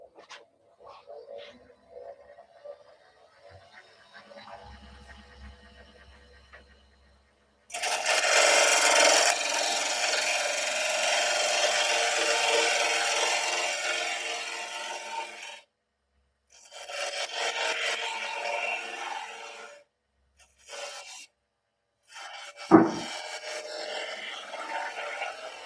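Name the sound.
wood turning on a lathe, cutting a tenon with a spindle gouge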